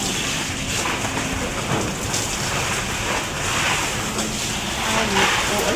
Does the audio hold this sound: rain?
yes